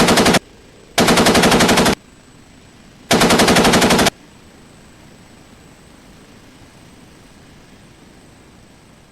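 In the DCS video game, the OH-58D Kiowa Warrior's .50 cal machine gun fires three loud, rapid bursts in the first four seconds, followed by a steady engine and rotor hum.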